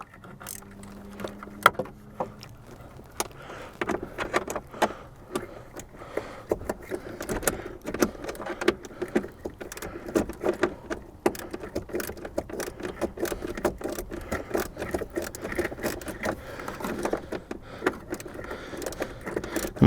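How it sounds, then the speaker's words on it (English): Socket on a ratchet tightening a plastic blower motor resistor on a 2003-2006 Jeep TJ, a long run of rapid clicking and small metallic knocks, fairly close and irregular, with no talking. "See if I can just get the socket up in there now on the ratchet and get it on."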